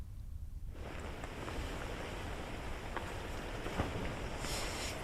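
Heavy rain with strong gusting wind at a lakeside boat club in Bhopal, a dense steady roar of wind and water that swells in after a quieter opening and holds loud and constant, with no voices.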